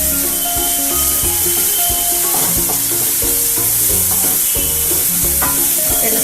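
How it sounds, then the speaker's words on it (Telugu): Chilli powder and turmeric are stirred into a paneer masala frying in a pan, loud continuous sizzling with repeated spoon scrapes and clanks against the metal, no speech. "స్పూన్ల కారం వేసుకొని బాగా కలుపుకోవాలి."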